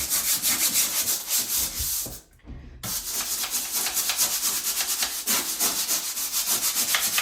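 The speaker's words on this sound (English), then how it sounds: "And then we can scrub at the sides and any other discoloration with our magic erasers." Magic eraser scrubbing the sides of a shower, rapid rhythmic back-and-forth rubbing strokes up close, pausing briefly partway through before resuming at the same brisk pace.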